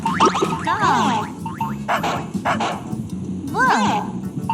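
A recorded dog barks and yips in several short, close bursts at an uneven pace, with some whiny calls between them.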